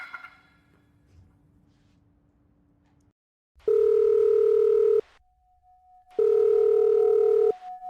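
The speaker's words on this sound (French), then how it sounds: "Je vais appeler Antoine Leclerc." A telephone call being placed: a brief soft tone, then silence, followed by two long, loud ringback tones separated by a gap with a faint steady hum.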